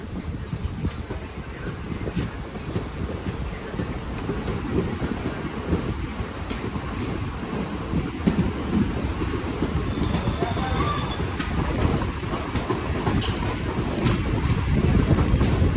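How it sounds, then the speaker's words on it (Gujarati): A train departing Sihor rumbles along the rails, a continuous heavy clatter and roar that builds slightly louder over time, with wind buffeting the microphone. "શિહોરથી ગાડી ઉપડી ગઈ છે"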